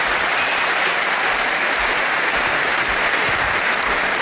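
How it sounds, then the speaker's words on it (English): Crowd applause following a boxing match ending in a fourth-round technical knockout, a dense steady roar of many hands clapping close and loud, filling the whole clip without voices. "a big round of applause for both these men, Bob Kirkwood and the winner, Cat Weazle."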